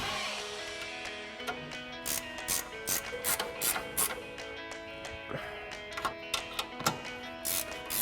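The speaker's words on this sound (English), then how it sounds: "we're going to tighten down our upper 3 mounting nuts with our 15 millimeter ratcheting wrench" A 15 mm ratcheting wrench tightening the upper mounting nuts on a Toyota Tacoma suspension lift, with quick bursts of rapid clicking pawl ratchet strokes, close and fairly quiet, with no talking.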